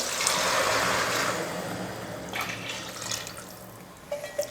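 Water pours steadily into a pot of rice and lentils at close range, a continuous rushing stream that thins out toward the end with a few splashes and drips.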